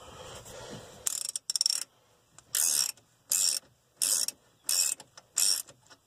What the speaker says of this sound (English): I already got my ratchet on here. We'll spin this off, knock it loose